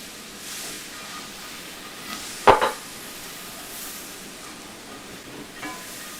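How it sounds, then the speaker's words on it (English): Gravy in a pan for Southern fried pork chops, a soft steady sizzle with one brief louder scrape of stirring near the middle. "and then stir it"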